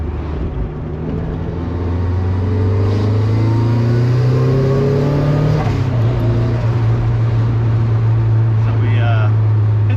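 A 1997 Mazda Miata engine pulls hard under turbo boost while driving around town, a loud, steady drone rising in pitch, then dropping briefly as a gear changes before droning on, heard from inside the car.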